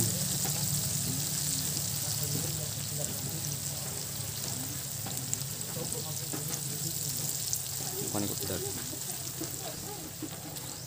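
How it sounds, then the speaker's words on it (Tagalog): Banana slices deep-fry in hot oil, giving a continuous close bubbling sizzle with occasional crackles and stirring, while someone talks over it. "Dapat deep fried para mas crispy ang kalalabasan."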